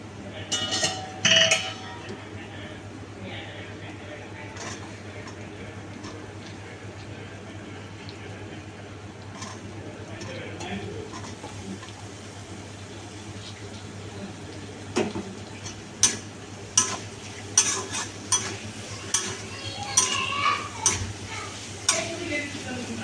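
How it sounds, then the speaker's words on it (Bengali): Capsicum and bell peppers are tossed into a pan with softened onions for chilli chicken. A steady low sizzle runs throughout, and from midway a spatula scrapes and clinks against the pan in repeated strokes. "এবার এর মধ্যে একে একে আমি ক্যাপসিকাম আর বেল পেপার যা রয়েছে সেগুলো দিয়ে দেবো।"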